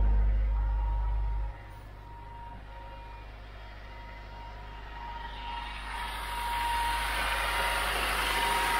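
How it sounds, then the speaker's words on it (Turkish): Exhaust note of a Honda Accord at a high idle, a steady low engine hum that stays even and continuous, with a soft airy hiss layered above it. "Egzoz sesi de bu şekilde."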